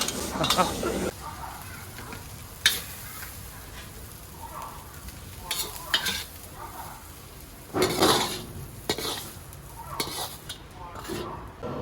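Noodles stir-fried in a pan, with irregular scraping and clanking of a utensil against the metal and a soft sizzle underneath, while people talk nearby.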